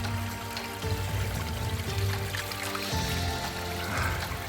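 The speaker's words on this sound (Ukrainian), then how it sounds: "Трохи набираю води для кави. Ось такий гарний потічок, чиста водичка" Water pours and trickles steadily as a container is filled from a small mountain stream, close and continuous with no voices.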